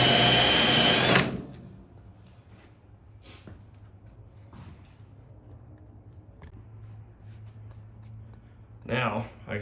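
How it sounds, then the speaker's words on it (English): A spot weld cutter bites into a welded seam on the roof of a 1968 Camaro, a short loud burst of drilling up front that stops abruptly, followed by quieter scraping and a brief rattle near the end. "Now I can come back with that cutter, and I can drill those out."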